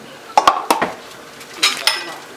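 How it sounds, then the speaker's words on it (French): Spoon stirring lamb biryani ingredients in a metal pot, a few sharp clinks and scrapes in quick succession, close and fairly loud. "Et je mélange tout bien."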